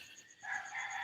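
A rooster crows faintly in the distance, a single drawn-out call rising after a quiet start and holding to the end, with no talking.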